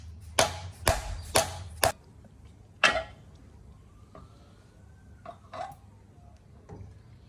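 A dead blow hammer taps a CV axle out of a differential, with five sharp, evenly spaced knocks followed by a few fainter taps in a quiet workshop.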